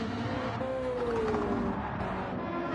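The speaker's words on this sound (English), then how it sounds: "I can hear squealing of tyres somewhere." Tyres of GT1 racing cars at Alsace in a racing video game squeal in a drawn-out, sliding high-pitched whine over a constant engine roar, moderately distant and with no talk over it.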